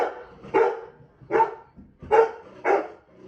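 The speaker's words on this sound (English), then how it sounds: "the UPS guy just delivered a package I had and caused the dog to go crazy" A dog barking at a package delivery, four loud, close barks spaced roughly a second apart, with faint whimpering in between and no talking.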